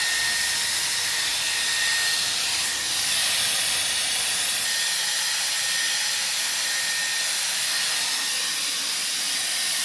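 A Dyson Airwrap with its round brush attachment blows hot air steadily while hair is being curled, a continuous close rushing hiss that barely changes over the full length.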